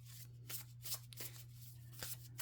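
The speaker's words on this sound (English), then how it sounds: "let's go ahead and pull some more cards here." Tarot cards being shuffled by hand, a quiet, close series of rhythmic riffling bursts roughly every half second with no talking.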